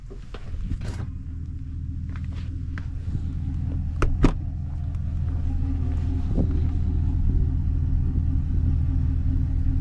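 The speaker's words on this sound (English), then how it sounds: "Mini split is trying to kick in and I've got power to the heater" A mini split heat pump kicks on inside a converted camper van, a low steady rumble and hum that slowly swells, with a few brief clicks and knocks near the start and no talking.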